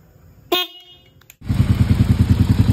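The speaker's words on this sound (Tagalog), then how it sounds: "Ito na yung kalalabasan nung nilagay natin na busina." A brief high electronic chirp, then a loud, low, buzzing motorcycle horn blares steadily with a pulsing warble.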